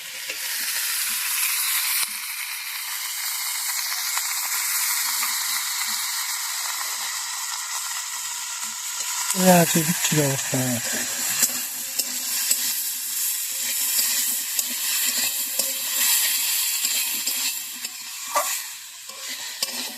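Chopped banana stem, pre-salted, drops into a sizzling curry in a Bengali village kitchen, with a steady loud frying hiss throughout and a sharp burst of spattering as the moist pieces hit the hot oil, no voices.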